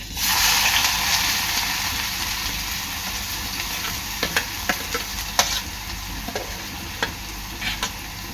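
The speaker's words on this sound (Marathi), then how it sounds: "आता इथे तेल गरम झालेलं आहे त्यामध्ये टाकणार आहे मी कांदा" Onion dropped into hot oil for an Agri Koli dried-shrimp recipe, a steady loud sizzle at close range with intermittent sharp clicks of a spoon stirring the pan.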